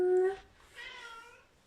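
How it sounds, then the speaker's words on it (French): A domestic cat meows once near the start, a short clear tonal call, followed by softer voiced sounds at close range in a quiet indoor room. "Je vais faire entrer mon chat, là."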